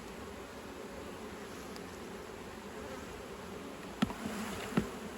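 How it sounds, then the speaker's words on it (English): A steady, dense buzzing of many honey bees at an open hive fills the air, fairly close, with a couple of brief knocks near the end. "Plenty of bees."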